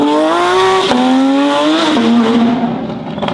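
Porsche GT3 RS fitted with custom GMG headers and a Valvetronic exhaust driving hard, loud and close, its engine pitch climbing through gears with sharp drops at each upshift and a raspy, high-revving howl.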